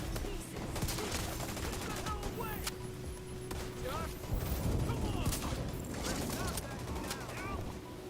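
Rapid gunfire in the video game The Division 2, bursts of automatic shots with sharp individual cracks over a steady background, with a voice talking during the shooting.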